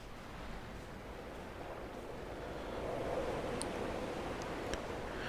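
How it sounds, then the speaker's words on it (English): Constant surf rolls against a ship in the video game Dear Esther, a soft, broad, steady wash of waves that swells slightly midway, with no talking. "There must be a hole in the bottom of the boat."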